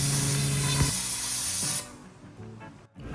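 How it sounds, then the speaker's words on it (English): Compressed air blasts through a freshly cut high-pressure power steering hose to clear debris, a loud steady hiss for under two seconds that cuts off abruptly, leaving quieter shop noise. "After cutting, be sure to blow all hoses out to clear any debris."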